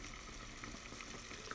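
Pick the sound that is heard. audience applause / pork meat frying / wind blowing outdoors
pork meat frying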